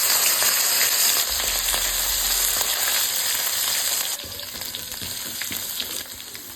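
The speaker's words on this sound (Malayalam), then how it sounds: "ഇനി നമുക്കിത് ഇരുമ്പിച്ചട്ടിയിൽ ഫ്രൈ ചെയ്തെടുക്കാം." Masala-coated lobster fries in an iron pan, a steady close sizzle with crackling pops and a faint low rumble, settling slightly quieter partway through.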